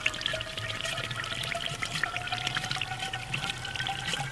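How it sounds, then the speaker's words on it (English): Septic effluent gushes steadily from a lateral pipe of a pressure distribution septic system's drain field during flushing, a continuous nearby pour and trickle of liquid with no voices. "You want to flush the lateral until it's relatively clean here."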